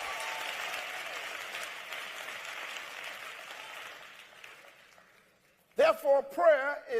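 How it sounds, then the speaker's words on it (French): A church congregation applauds in a sustained, even wash that slowly fades to quiet, after which a voice begins speaking. "Applaudissez Dieu pour une toute nouvelle ville remplie du Saint-Esprit."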